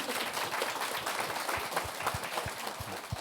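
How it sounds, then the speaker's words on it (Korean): Audience applause after a request to clap for a colleague at a company job talk Q&A event, a steady wash of many hands clapping with some low thumps, fairly loud and continuous throughout. "박수 한 번만 좀 부탁드릴게요"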